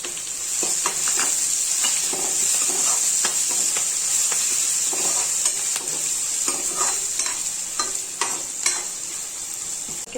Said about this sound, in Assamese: মই মাছ ভজা তেলখিনিতে বনাইছোঁ আৰু কাটি থোৱা পিঁয়াজ, এয়া আদা নহৰু অকণ দি দিছোঁ